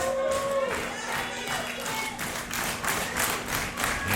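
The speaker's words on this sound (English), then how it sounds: "here you can hear the Boomiverse cheering on" Pro wrestling audience at a live show cheering and clapping during a submission hold, a busy mix of applause, claps and shouts filling the room at steady volume throughout.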